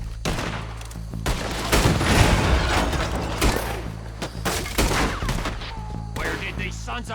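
Rapid gunfire in the Red Dead Redemption 2 game, loud overlapping shots and bursts in quick succession over a low musical drone, with brief shouting.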